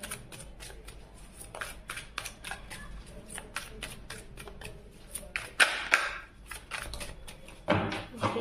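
Tarot cards being shuffled by hand: a steady run of quick, soft papery flicks and riffles, fairly close and quiet, with a couple of louder slaps near the end.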